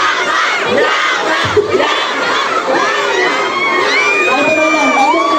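A live studio audience at a Filipino entertainment show shouts out together, a loud, sustained crowd roar of many voices with whoops and cheers rising throughout.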